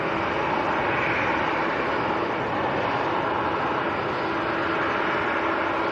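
A Loganair airliner on final approach to Manchester Airport, a steady broadband engine roar holding evenly throughout with a faint tonal whine, no voices.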